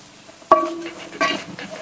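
A spoon scrapes through meat sauce seasoned with chili, thyme, oregano and salt in a pan, giving a sharp clack followed by a softer second stir over a faint sizzle.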